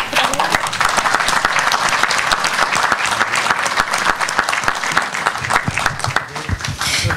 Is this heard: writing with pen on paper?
no